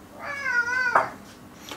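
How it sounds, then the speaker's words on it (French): A domestic cat meows once, a clear drawn-out rising-and-falling call close by in a home kitchen, followed by a short faint sound near the end. "Ah, si vous entendez des miaoutements, c'est normal, c'est mon chat."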